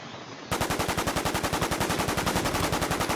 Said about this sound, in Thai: อุ้ยโดนลุมยิง